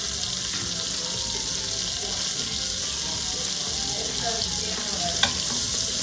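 Celery, bell peppers, onions and the white part of green onions sizzle steadily in a hot Instant Pot for a Cajun-style jambalaya, a dense continuous frying hiss with occasional stirring clinks, close and fairly loud, no talking.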